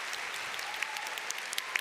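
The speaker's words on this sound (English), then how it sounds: "to once again give him the biggest round of applause." Steady applause from an audience, a dense wash of clapping with a few sharper claps standing out, continuous throughout with no voices.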